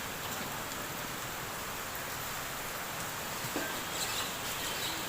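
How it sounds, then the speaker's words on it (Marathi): Steady, dense rainfall hisses evenly throughout, a constant wash of drops with no voices. "बघू शकता खूप जास्त पाऊस पडत आहे."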